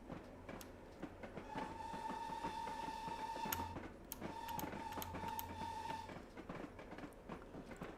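A locomotive running with its regulator shut in Train Simulator 2020, a steady rolling rumble with rhythmic track clicks and two sustained whistle-like tones, no voices.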